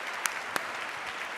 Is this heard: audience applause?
yes